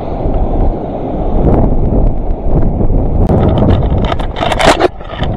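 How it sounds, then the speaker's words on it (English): Steady, loud wind rushing across the microphone on a beach at daybreak, with gusty buffeting and a few scraping rustles near the end, no talking. "but it is windy"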